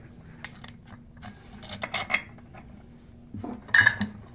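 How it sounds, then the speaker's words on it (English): A brake caliper assembly slides over the rotor in a few metallic scrapes and clinks, each short and close, with a sharper clatter near the end. "basically what you do is you just slide the caliper over the rotor just like this"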